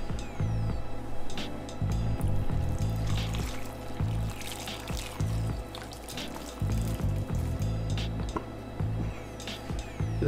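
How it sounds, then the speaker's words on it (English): Garlic butter sauce sloshing and pouring into a large shrimp boil pot, with repeated low thumps and splashes in uneven bursts, close and fairly loud, with no talking. "I'm gonna go ahead and dump our garlic butter sauce in"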